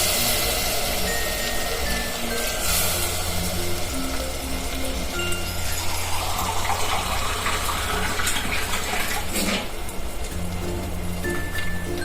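Water poured steadily into a pot for cooking rice, a continuous close gush that holds its level throughout, with faint clinks underneath.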